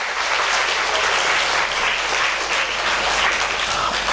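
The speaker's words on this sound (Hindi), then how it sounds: "इनके लिए ज़ोरदार तालियां" Enthusiastic audience applause at an academy felicitation ceremony honouring top rankers, a dense, sustained burst of clapping from a large crowd, loud and steady throughout with no speech over it.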